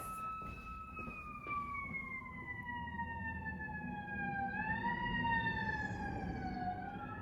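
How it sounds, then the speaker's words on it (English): An ambulance siren wails steadily, a long slow tone that falls and rises over traffic rumble, moderately distant. "that's the ambulance. Somebody's in danger."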